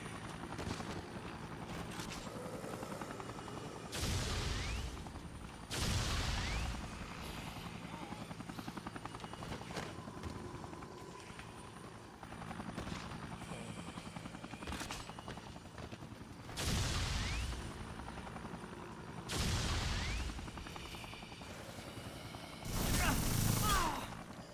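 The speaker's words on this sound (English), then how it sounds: "Oh, there's the helicopter. Be careful, that thing, I believe, will shoot missiles at you." A helicopter in the Dead Rising finale makes a steady rotor drone while heavy gunfire and blasts burst out at intervals, with dense crackling layered over the continuous whirr.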